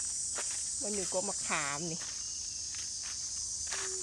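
A cicada in a tamarind tree in Vientiane, Laos, gives a steady, high, unbroken buzz that lasts the whole time, while a person talks briefly nearby.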